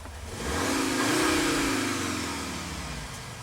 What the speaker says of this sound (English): So there is a fake noise going on there that's inside the cabin with me.